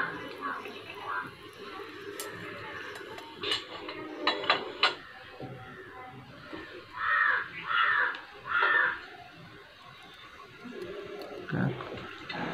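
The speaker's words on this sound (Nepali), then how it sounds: "फ्रेस स्वच्छ हावापानी चराहरूको चिरबिर सँगै" Crows caw repeatedly around a village, with several loud, clear bursts in the middle and scattered small birds chirping throughout, all fairly close and with no talk over them.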